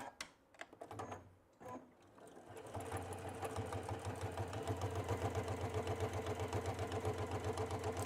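A Baby Lock sewing machine stitches a seam on a tote bag, a steady rapid mechanical whir with fast repeating needle pulses, preceded by a few short clicks and starts near the opening.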